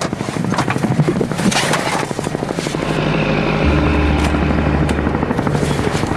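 American military helicopters thump with steady rotor chop and a droning engine, loud and close, running continuously without speech, during a French battalion operation in a war zone.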